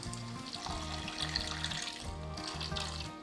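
Water pours into a pan of spring onion curry, a steady close splashing and trickle beneath a low, even hum.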